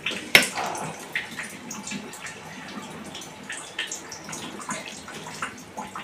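Cotton cloth stirred and pushed under in a pot of dye water gives soft, irregular sloshing and gurgling close by, opening with one sharper splash.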